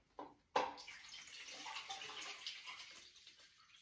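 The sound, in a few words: pouring stop bath into film developing tank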